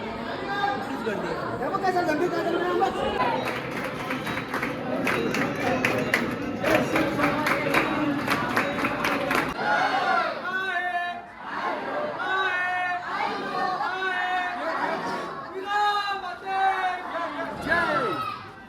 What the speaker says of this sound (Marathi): गर्दी नसेल पण गर्दी आहे